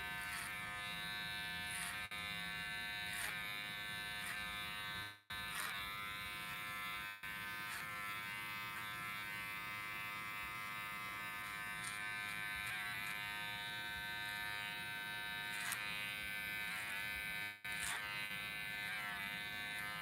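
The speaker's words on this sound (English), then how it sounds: "use the comb to feed the clipper blade, the hair into the clipper, like this" Electric hair clippers buzz steadily and close during a boy's haircut, cutting clipper-over-comb, with a few brief dips in the motor's drone as the blade shifts through the hair.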